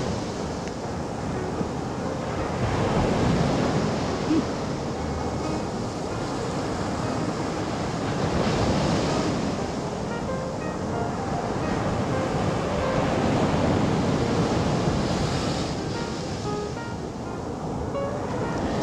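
Ocean waves wash steadily onto a bright beach, a continuous broad roar of surf swelling and easing, mixed with wind buffeting the microphone, no voices.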